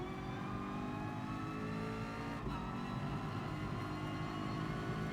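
Race car engine in GT Sport droning steadily at fairly constant revs with dense harmonic whine, loud and continuous throughout, no talking.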